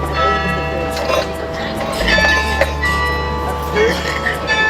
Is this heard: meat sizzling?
no